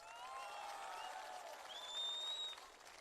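A crowd at an outdoor political mass rally applauds with a continuous wash of clapping, and a few whistles ring out above it, fairly distant and steady throughout.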